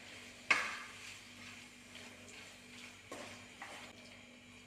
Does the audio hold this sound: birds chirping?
no